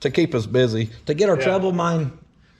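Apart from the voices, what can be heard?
No everyday noise stands out behind the speech.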